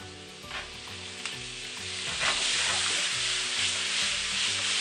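Water poured into a hot pan of frying shrimp and squid sets off a loud, close sizzle that swells and stays steady, with light stirring clatter mixed in and no voices.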